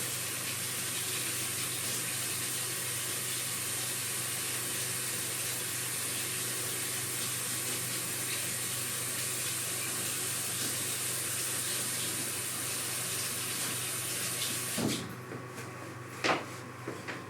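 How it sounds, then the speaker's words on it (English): Tap water runs steadily as a spatula is rinsed under it, a constant close hiss filling most of the stretch, then the flow stops with a few small knocks at the end. "I'm going to rinse that."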